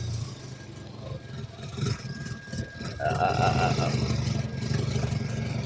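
A car engine idles steadily after mechanical repair work, a continuous low rumble that swells slightly partway through, with people talking over it.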